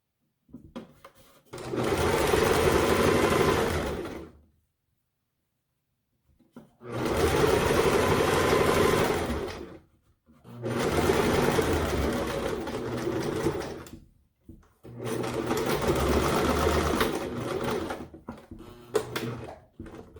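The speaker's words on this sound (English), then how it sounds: "I'm gonna sew it somewhere here to connect them" A sewing machine stitches ribbon onto a washable homemade fabric face mask in four loud, steady bursts of whirring, each lasting a few seconds and separated by short silent pauses.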